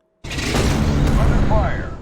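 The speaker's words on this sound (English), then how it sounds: "artillery guns firing" Artillery guns firing in a tank warfare game: a sudden heavy boom after a brief silence, then a sustained roaring rumble with a faint whistling tone in the tail.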